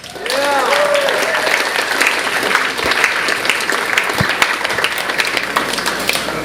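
Audience applause for a speaker at a Pecha Kucha Night in Chicago, a steady dense round of clapping from a crowd that swells quickly and holds, with a voice talking over it at the start.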